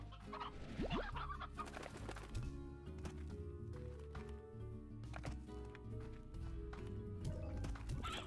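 Chickens cluck in the Slime Rancher video game, a run of short, close clucks and squawks over a busy game soundscape with some music-like tones, with no speech heard.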